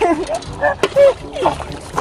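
Water splashing as people bathe outdoors in cold water, with brief sloshes and splatters mixed in among excited children's and adults' voices calling out close by.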